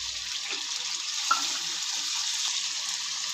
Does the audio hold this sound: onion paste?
yes